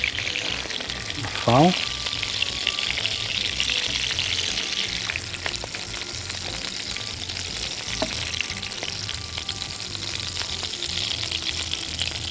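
Ghee (clarified butter) poured into a hot pan while cooking salmon in lemon-paprika sauce, giving a steady close sizzle and crackle with a brief pouring splash, under occasional kitchen talk.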